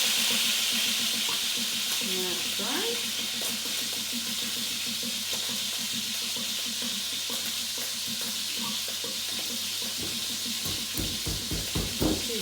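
Beef for a coconut curry sizzles and fries steadily in a frying pan, a continuous close hiss with occasional stirring scrapes and a few sharper clatters near the end.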